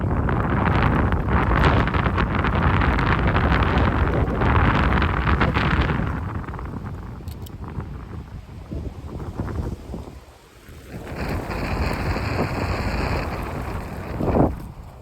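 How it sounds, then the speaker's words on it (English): Strong wind storm on a mountainside roars and buffets the microphone, heavy gusts for several seconds, easing briefly, then surging again with a hollow rushing tone. "A windstorm, sure, yeah, I mean, it's windy."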